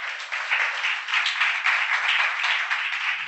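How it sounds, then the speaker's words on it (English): Steady, dense applause from an audience at an Amway business meeting, continuous and fairly loud, sounding band-limited as if picked up through a PA or phone. "A round of applause again to my upline."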